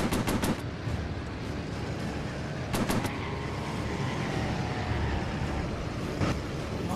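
Machine gun fire in the WW2VR virtual reality game, with short rapid bursts near the start, the middle and the end over a dense, continuous rumbling background.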